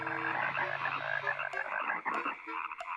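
A frog in a French-dubbed animated film about the Ten Commandments croaks continuously in a dense rasping chorus, fairly loud and steady, with no talk.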